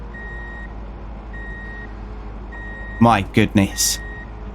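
A truck backing a short trailer into place in a driving simulator game sounds steady, evenly spaced reversing beeps over a low engine drone, and a voice speaks briefly near the end.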